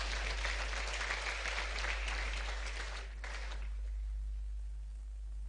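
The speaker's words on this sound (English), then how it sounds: "She deserves another round of applause" Audience applause at a media conference, fairly soft and spread through the room, fading away after about three seconds.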